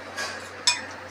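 Raw mango and sweet potato salad tossed in a bowl with coconut and coriander, giving a soft scrape followed by a single bright clink of a spoon against the bowl.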